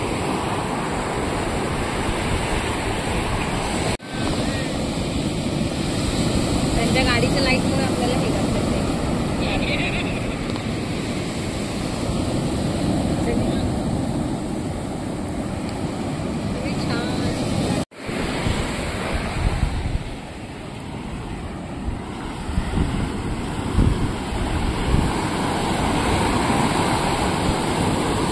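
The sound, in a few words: sea waves at Chivla beach, Malvan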